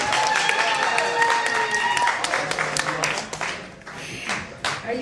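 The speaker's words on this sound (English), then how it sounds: "Give her a hand." Audience applause for a female stage performer introduced as the queen of the gypsies: dense, steady clapping fills the clip, with a faint musical tone and some voices underneath before the applause thins near the end.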